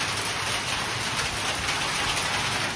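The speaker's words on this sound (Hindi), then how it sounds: "ये देखो गाइस ओले पड़ रहे हैं, बहुत तेज बारिश हो रही है" Very heavy rain mixed with hail pounding down during a downpour on the Vaishno Devi pilgrimage route, a dense, loud, unbroken hiss of drops and pellets close by.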